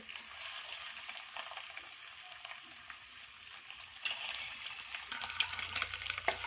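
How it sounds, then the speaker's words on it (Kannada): Eggs roasting in hot oil for a dhaba-style egg masala give a steady, close crackling sizzle with occasional pops, the spatter growing a little busier toward the end. "ಎಣ್ಣೆಗೆ ಹಾಕ್ತಾಯಿದ್ದೀನಿ ಸ್ವಲ್ಪ ಬಿಸಿ ಹಾಕಬೇಕು ಮೊಟ್ಟೆ ರೋಸ್ಟ್ ಮಾಡ್ಕೊಳ್ಳಿ"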